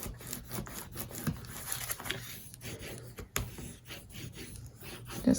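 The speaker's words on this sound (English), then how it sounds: "And burnish that down." Paper being burnished flat onto a mini album page, a close, dry rubbing and scraping texture with short strokes that rise and fall across the whole stretch, no voices.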